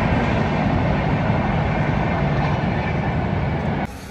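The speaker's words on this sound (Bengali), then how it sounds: "ট্রেন ক্রস করছে" A train crossing nearby on a road trip from Kolkata to Similipal in Odisha, a loud, steady low rumble and roar throughout that cuts off abruptly just before the end.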